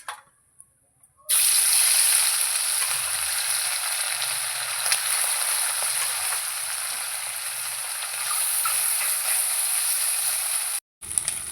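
Amudi fish sizzle steadily in hot oil in a pan, a loud continuous hissing fry that starts abruptly after a brief quiet moment and runs on with faint crackles.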